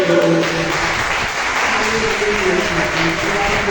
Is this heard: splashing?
no